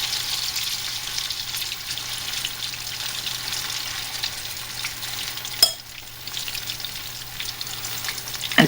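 Potato latkes fry in a pan with a close, steady crackling sizzle and a faint background hum. A sharp clatter occurs partway through, and there is no talk.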